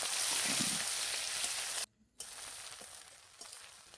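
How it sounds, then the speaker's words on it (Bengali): Shrimp lightly frying in hot mustard oil for a lau chingri dish, a steady close sizzle broken by a brief silent gap midway before the frying resumes. "এবার ওই তেল গরম হয়ে গেলে আমি চিংড়ি মাছগুলোকে হালকা ভেজে নিচ্ছি।"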